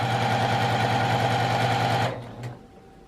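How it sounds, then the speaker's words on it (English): A sewing machine stitches a quilted patchwork tote bag in a steady, loud, fast whir for about two seconds, then stops abruptly, leaving a faint room tone with a brief soft knock. "I'm just going to continue sewing"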